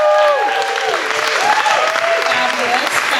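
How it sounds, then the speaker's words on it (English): A comedy-show crowd applauds steadily and loudly for a performer, with whoops and cheering voices riding over the clapping throughout. "Let's hear it again for Colleen."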